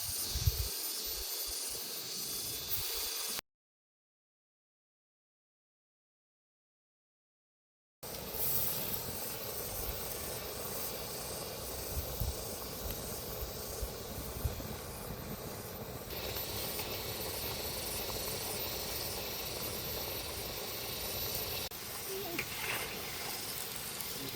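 Sweet cassava misro fries in hot oil over a strong fire in an Indonesian village kitchen, a steady close sizzling hiss that cuts out into a brief silence before the frying resumes.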